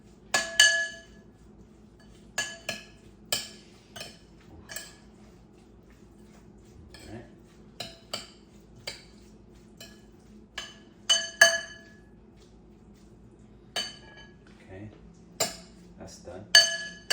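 Utensils clink repeatedly against a bowl while mullet ceviche is mixed, giving sharp, bright taps in irregular clusters over a quiet kitchen background.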